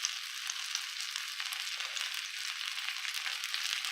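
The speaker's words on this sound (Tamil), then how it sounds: "இந்த மாதிரி கொஞ்சம் ஊற்றி பொரிச்சு எடுத்துக்கலாம்." Masala-coated fish frying in oil on a tawa, a steady bright sizzle that holds unbroken for a few seconds, fairly soft and close, with no voices.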